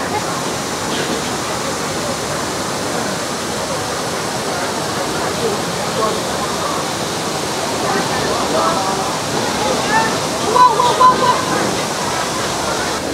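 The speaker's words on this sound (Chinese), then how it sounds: "听着瀑布的流水声" Waterfall at Furong Town in Xiangxi, an ancient town built above the falls, giving a steady, dense roar of rushing water that fills the whole stretch without pause.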